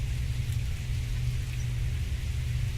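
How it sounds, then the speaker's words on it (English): Steady, dense video-game rain hiss with a deep low rumble underneath, continuous and even throughout, no voices. "The rain continues to hurtle from the heavens"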